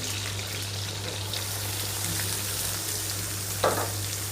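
Green chillies and onions fry in hot oil for an egg and drumstick curry, giving a continuous crackling sizzle up close, with a low steady hum underneath and one brief scrape of stirring near the end.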